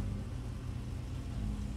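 A car engine in the zombie survival video game State of Decay runs with a steady, low rumbling drone for the whole moment, with no voices over it.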